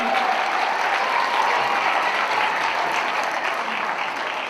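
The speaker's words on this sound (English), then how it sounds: "Nice round of applause for our fourth grade teachers here this evening" An audience at an elementary school winter concert gives a sustained round of applause for the fourth grade teachers, dense and even, tapering slightly toward the end.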